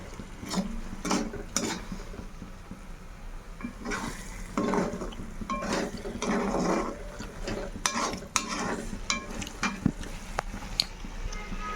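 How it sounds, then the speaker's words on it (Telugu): Tomatoes sizzling in a pan for cashew paneer curry, a steady close frying hiss with intermittent spoon scrapes and stirring clatter against the pan, no voices over it. "అది బాగా ఫ్రై చేసుకొని చూడండి ఎంత బాగుందో"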